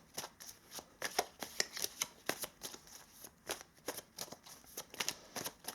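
Tarot cards being shuffled for a full-moon pick-a-card reading, a quick run of crisp riffling flicks and soft slaps in a steady irregular rhythm, close and fairly quiet with no talking.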